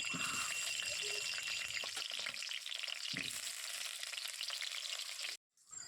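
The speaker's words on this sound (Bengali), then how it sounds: "কড়াই তেল দিয়ে দিয়েছি আর এখন প্রথমে আলুগুলো ভেজে নেব" Potatoes sizzle and crackle in hot oil in a wok, a busy steady hiss with occasional stirring, cutting off briefly near the end.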